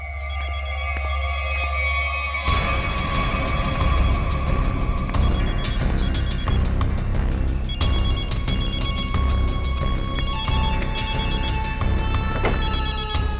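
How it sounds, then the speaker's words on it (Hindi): A telephone ringing nearby with a repeating electronic ringtone, loud and steady, entering suddenly after a low rumbling stretch and continuing over a busy background of clatter and tonal sounds. "घंटी तो बज रही है, फोन का यहीं आसपास है।"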